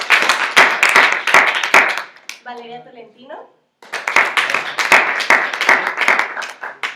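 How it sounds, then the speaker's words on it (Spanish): Audience at a panel discussion clapping in two close bursts of applause for the presenters, separated by a short pause in which a voice announces a name. "un aplauso por favor"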